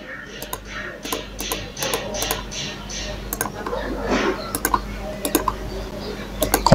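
Password being typed on a computer keyboard while setting up a live TV server: a steady run of light, close key clicks with a faint background hum and a little murmured speech.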